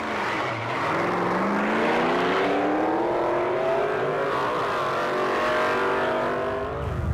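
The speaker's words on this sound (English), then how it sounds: "And here comes the dragster." A dragster on a drag strip: a loud, sustained engine roar climbs steadily in pitch as it accelerates, then dips briefly near the end, dominating throughout with no talk.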